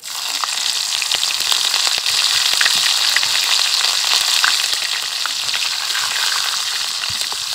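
Chopped green chillies hitting hot oil with browned cumin seeds for Punjabi-style sarson ka saag, a loud, steady sizzle with scattered sharp crackles and pops running throughout.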